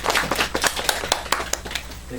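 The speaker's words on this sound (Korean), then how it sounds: "박수 부탁드리겠습니다." A modest audience at an education festival claps for a teacher's presentation, with separate sharp hand claps in an uneven rhythm, fairly close, with voices murmuring underneath.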